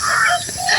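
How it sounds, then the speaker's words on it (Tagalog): Crows call in a single short, harsh, loud cry close by during an outdoor airgun hunting session. "Ayun, bumalik na naman yung mga uwak."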